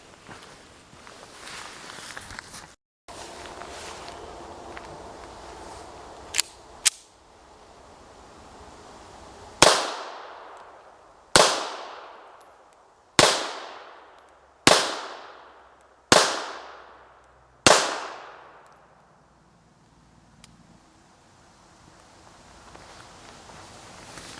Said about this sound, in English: The gun, it feels like it's actually cycling better with the heavier bullets in it.